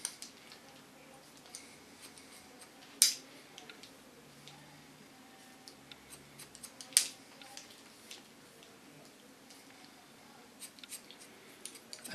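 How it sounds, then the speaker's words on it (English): Scissors cutting hair during a haircut in a salon, two sharp close snips standing out amid faint light clicks and quiet handling, with no talk. "Take it up with my fingers, put it to the back and connect it on the lines and just cut."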